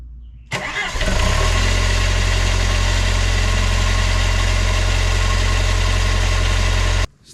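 A Hitachi excavator with a Nissan engine, unused for at least six months, cranks briefly and fires on the first turn, then settles into a loud, steady, close diesel idle until it cuts off.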